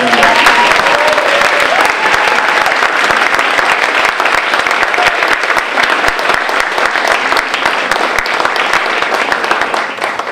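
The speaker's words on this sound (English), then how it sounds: "I'd like to give the band a standing ovation" Standing ovation for a band, a loud, dense wash of applause from a large audience, sustained and even throughout, with a few voices rising over the clapping early on.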